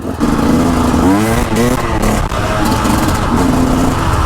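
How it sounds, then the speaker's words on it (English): A motorcycle on a hill climb runs loud and close, its engine droning steadily with rising and falling revs as the throttle shifts, filling the whole stretch. "My bike's running sweet as well, considering I put gearbox oil in it last week."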